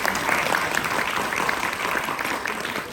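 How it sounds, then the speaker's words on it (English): A conference audience claps at the close of the National Cancer Congress Malaysia 2024, a steady, full burst of applause from a large crowd lasting throughout, fairly close and with no talk over it. "let's clap for that, please."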